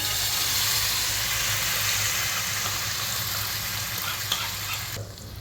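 Masala puree for homemade butter chicken sizzles and fries steadily in a hot pan, a continuous close crackle that holds fairly even before thinning out near the end.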